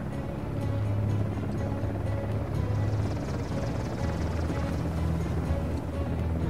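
Steady low rotor drone of a helicopter in Uncharted: The Lost Legacy, holding at a constant even level throughout with no voices over it.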